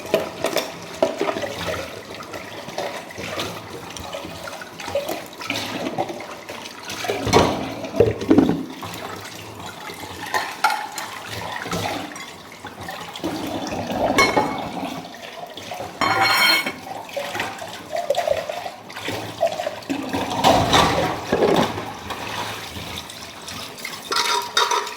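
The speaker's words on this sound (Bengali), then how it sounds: "আর এখন একটু বাসন মাজছি।" Dishes are washed by hand under running water, with continuous splashing and pouring and scattered clinks of pots and plates throughout.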